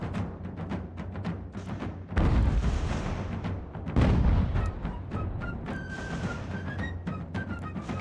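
Cannons boom in a line battle between American and British armies, with two heavy, close blasts standing out above a busy backdrop of scattered musket fire and battlefield rumble.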